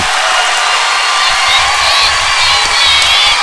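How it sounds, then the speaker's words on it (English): A loud crowd at a high school football game roars and cheers continuously, with whoops and shouts rising out of the dense noise throughout. "if you can hear this crowd, that says it all"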